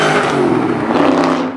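A Roots-style supercharged engine revs up close and loud, its deep, dense engine roar carrying a steady blower whine across the whole short burst, with no voices.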